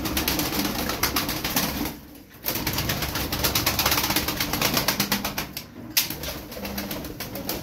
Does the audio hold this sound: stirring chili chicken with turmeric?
no